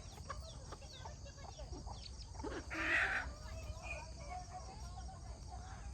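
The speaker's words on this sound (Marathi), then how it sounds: "कोंबड्या बघा आपल्या घरी जायला निघाल्यात." Hens cluck softly in a village yard on an evening as they head home, with a louder squawk midway over a steady bed of crickets and faint birdsong.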